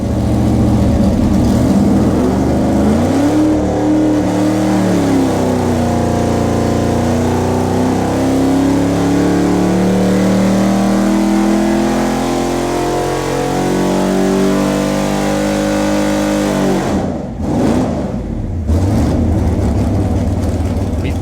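A loud Big Block LS6 454 V8 engine is held under load on a dyno, its pitch climbing and falling in long sweeps up to 6,000 RPM, then cutting briefly before droning on steadily.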